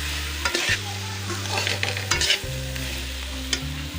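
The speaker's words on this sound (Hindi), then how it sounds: "लहसुन अदरक का पेस्ट भी फ्राई हो गया।" Garlic ginger paste sizzles and fries in a pan for a chicken biryani, with a steady hiss broken by a few clatters of a spoon stirring, close and fairly loud with no talking.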